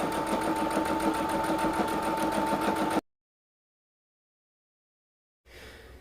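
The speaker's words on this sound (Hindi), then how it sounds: "तो यहाँ से देखिए मैं पक्की सिलाई लगा रही हूँ।" A sewing machine runs steadily while stitching a garment sleeve, a loud continuous whirring hum with rapid rhythmic needle ticks for about three seconds, then stops abruptly into silence before a faint noise returns near the end.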